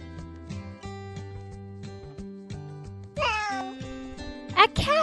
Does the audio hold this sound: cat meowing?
yes